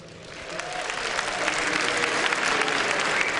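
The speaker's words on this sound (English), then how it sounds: "I think we can still have a round of applause for Team EHOME" Audience at an IEM Hanover League of Legends esports event applauding for Team EHOME, a dense wash of clapping that swells and stays loud and steady.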